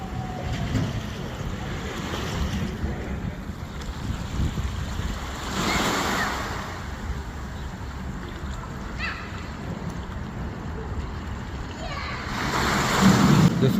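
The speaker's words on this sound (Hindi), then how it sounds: "बजरी और पत्थरों के साथ पानी टकराता है तो वो जो लहरों का शोर पैदा होता है" Water lapping and breaking against gravel and stones along the shore of the River Thames, a steady wash of small waves with wind noise across the microphone, continuous and moderately near.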